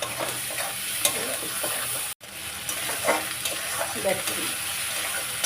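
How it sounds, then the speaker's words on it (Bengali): Ginger, garlic and onion fry with turmeric and salt in a pan, a steady close sizzle broken by stirring scrapes and one brief dropout, under a short spoken word. "আদা রসুন পেঁয়াজ ভালো করে কষে নেওয়া হয়েছে"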